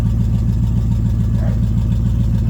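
A 1984 Chevrolet C10 truck engine runs steadily after a cold start, a loud, close, low rumbling idle with an even pulsing throb throughout and no voices over it.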